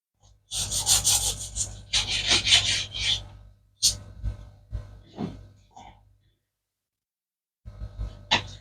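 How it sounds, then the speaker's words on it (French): Knife rasps and scrapes through breaded mortadella cordons bleus, cutting them in half in a home kitchen, in several close bursts of crunchy sawing separated by pauses, no speech. "Et on va les découper, tant qu'à faire, au milieu pour le découvrir tous ensemble"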